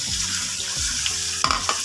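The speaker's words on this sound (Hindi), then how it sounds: "चिकन को हम इतना पकाएंगे ताकि चिकन का कलर जो है वो अच्छे से चेंज हो जाए।" Chicken pieces sizzle and fry in a pot while being stirred for haleem, with repeated scraping strokes of a spoon against the pot over a steady hiss and no talking.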